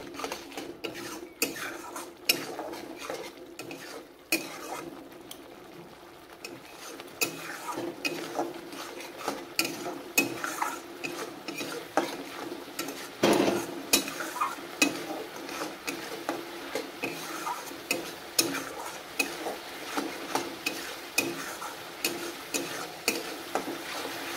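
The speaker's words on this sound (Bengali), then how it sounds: "মশলাটা ভালোভাবে ভাজুক" Masala of ground spices and salt frying in a pan for a Bengali banana-flower kofta curry, stirred continuously with a metal utensil that scrapes and clinks against the pan in a steady, close rhythm over a soft sizzle.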